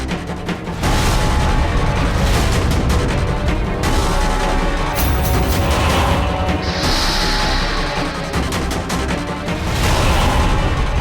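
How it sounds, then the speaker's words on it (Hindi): Loud, dense bursts of gunfire and booming blasts roll on continuously, layered with crashes and a dramatic soundtrack-like roar. "मालिक हम पर गोली चला रहे हैं"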